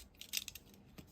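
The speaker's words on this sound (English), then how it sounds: "With my little craft knife, I'm just going to cut" A small craft knife cuts a slot through folded cardstock for a handmade card, making a quiet, close series of light scraping clicks over about a second.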